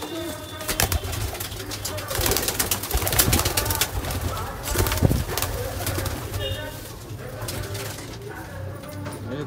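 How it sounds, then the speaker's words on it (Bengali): Pigeons coo repeatedly and close by, a low throaty burbling that continues throughout among rustling and a few faint voices. "বন্ধুরা, এই পায়রাগুলো ছেড়ে দেবো"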